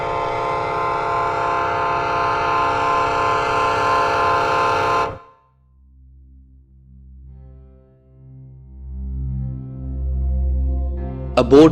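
A Canadian Pacific Railway train sounds its horn in a long steady loud blast that cuts off abruptly, followed by low rumbling and a faint later horn tone.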